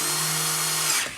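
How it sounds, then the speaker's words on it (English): Power drill whirring steadily for about a second while driving screws into a patio sectional sofa set during assembly, then winding down, loud and close with no voices. "drill bit to just attach them, and it just to increase the speed of the assembly."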